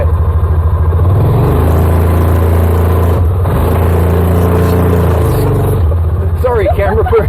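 A car with a CVT belt revs in high gear while held against heavy brake pressure, a loud, steady engine drone that strains and shifts pitch partway through before easing off, with someone speaking briefly at the end.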